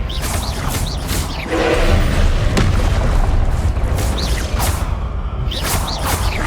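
Confringo blasting curses explode in a Hogwarts Legacy goblin battle, loud heavy booms and whooshing bursts that come one after another and overlap into a continuous roar of spell fire.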